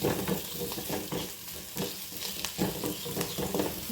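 Sooji upma ingredients with curry leaves and asafoetida sizzle in a pan while being stirred, giving a continuous frying hiss broken by regular scraping strokes, close up.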